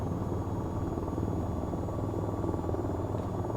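An AH-94 attack helicopter in VTOL VR dives at nearly 300 knots into a ravine, its rotor and turbine making a steady, loud, dense drone with a faint high whine throughout.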